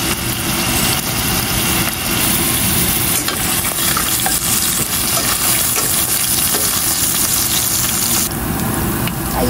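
Garlic sautés in leftover frying oil for Filipino adobo, a steady, loud sizzle and crackle with stirring scrapes running throughout and no talking.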